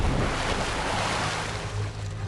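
Water rushes and churns in a steady, loud wash of surf-like noise as people jump into water, with no voices over the continuous sound.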